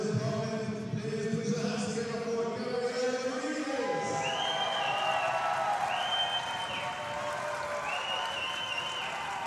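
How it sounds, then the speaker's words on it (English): Spectators at a professional Brazilian jiu-jitsu event in Ireland applaud and cheer a popular young black belt. Clapping and crowd noise run steadily, with a shrill whistle-like tone repeating in the latter half. "Gabriel gets the big cheer from the crowd"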